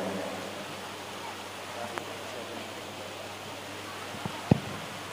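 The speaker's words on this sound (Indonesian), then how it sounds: "cuacanya lagi dalam keadaan hujan" Steady rain falls outside a village mosque in Banyiur Anjir Pasar, a soft even hiss of moderate loudness with a couple of faint knocks near the end.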